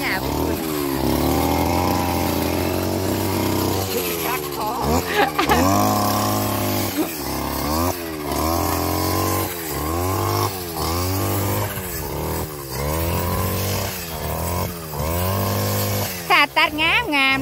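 A motorized grass cutter slicing through grass, its two-stroke engine droning loud and close with repeated rising and falling revs every second or two, while people chat over it.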